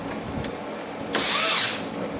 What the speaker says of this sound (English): So I'm getting all of my screws tight all along this way.